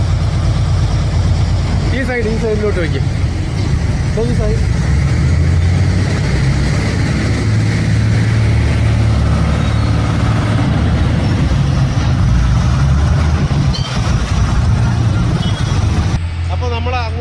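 A scooter engine runs and idles as the machine is brought aboard a ferry crossing to Divar Island in Goa, a continuous low drone under people talking nearby.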